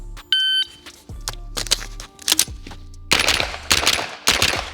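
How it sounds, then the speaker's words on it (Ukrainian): A shot timer beeps once, followed by a quick series of sharp carbine gunshots at an outdoor range, fired in paired bursts with metallic handling clicks between them. "За сигналом таймера приєдную магазин."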